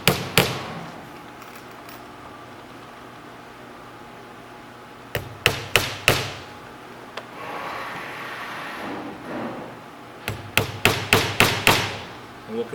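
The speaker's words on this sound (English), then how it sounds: "We'll now put the nails in," Sharp hammer strikes driving nails into plywood, coming in quick clusters of three or four blows separated by quieter pauses, close and loud against faint background noise.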